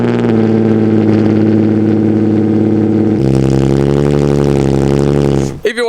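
A twin-turbo Nissan 300ZX on a cold start idles through big mufflers with a loud, steady low rumble, shifting to a deeper, richer drone partway through before cutting off abruptly.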